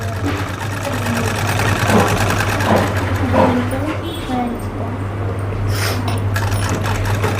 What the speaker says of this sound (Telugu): ఇక మొత్తం కుట్టా నేను, నువ్వు కుట్టుకో నేహ.